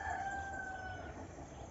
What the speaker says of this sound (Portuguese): As minhas galinhas, meus pintos, olha lá, o Alaerto tocando eles